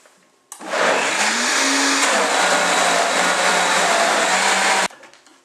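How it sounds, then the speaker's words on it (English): A blender purees a carrot and ginger soup mixture, starting abruptly, whirring loud and steady for about four seconds, then stopping. "So now our mixture is nice and blended."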